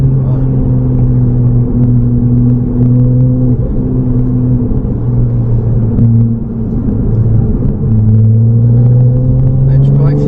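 A Ferrari 296 GTB on the Trappes track circuit, heard loud from inside the cabin: engine tones climb and drop through several gear changes over ten seconds, with an instructor talking over the drone.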